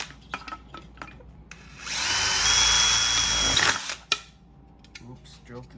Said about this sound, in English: you're going to have to drill some drainage holes